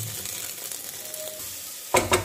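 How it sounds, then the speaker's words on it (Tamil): Ginger garlic paste sautéing in a pan while cooking goat leg paya, with a steady sizzle and frying hiss throughout and a few sharp spoon scrapes against the pan near the end. "இஞ்சி பூண்டு பேஸ்ட்டும் சேர்த்து நல்லா வதக்கி விட்டுக்கோங்க"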